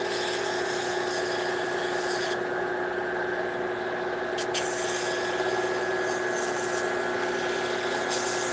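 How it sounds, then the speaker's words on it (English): Sanding the bark of a blackthorn shillelagh walking stick produces a steady, continuous abrasive rasping that runs close and fairly loud throughout, with no voices. "when you start sanding away at the bark"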